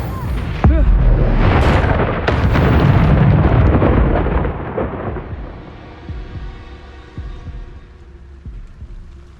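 A Reducto blasting spell from the Hogwarts Legacy video game: a loud, deep explosion bursts near the start, rumbles heavily for several seconds, then fades into quieter ringing game ambience.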